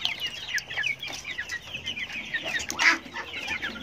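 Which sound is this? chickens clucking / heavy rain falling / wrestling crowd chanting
chickens clucking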